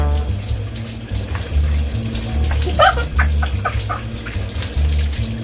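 Running water from a shower sprayed over a person's head and back during hair washing at home, a steady continuous splashing rush that lasts throughout, with a few short bird-like squeaks partway through.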